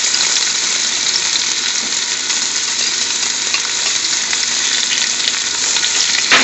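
Chopped garlic sizzles and crackles loudly in hot oil as it is tossed in a pan for a British Indian restaurant-style sag bhaji, a steady dense hiss with faint stirring, no talk.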